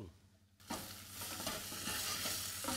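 Leeks sautéing in butter in a pan, where near-silence gives way to a sudden loud, steady sizzle and frying crackle that continues close and even.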